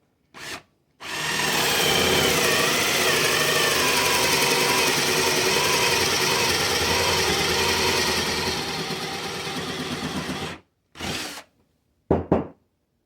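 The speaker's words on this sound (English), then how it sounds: "just drill down in the top of this to glue my stem in" A power drill with a spade bit whirs loudly and steadily as it bores into the top of a wooden pumpkin for about ten seconds, then a few short bursts of drilling follow.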